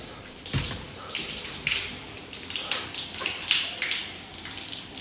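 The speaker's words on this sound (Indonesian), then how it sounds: "Ada suara keran nyala di mana ya?" A water tap runs in a laboratory building, with steady splashing and trickling close by plus a few knocks and bumps. No one speaks.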